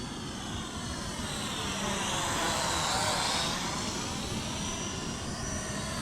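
A Sanrock X105W quadcopter drone flies nearby with a steady, loud buzzing whir of spinning propellers that swells slightly in the middle as it passes closer, then holds level.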